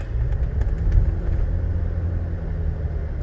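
Toyota Tacoma TRD third-generation pickup with 187K miles climbing a hill, a steady low engine rumble from inside the cab under load, fairly loud and continuous without talk.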